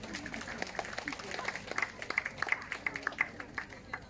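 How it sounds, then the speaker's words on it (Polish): A crowd claps in scattered, fairly quiet applause at a village harvest festival, heard from a moderate distance with some voices mixed in. "wielkie brawa, bardzo proszę"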